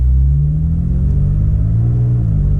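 Toyota Tacoma truck in sport mode pulling away from a stop, a steady low engine rumble building continuously close by with no gaps, no talking over it.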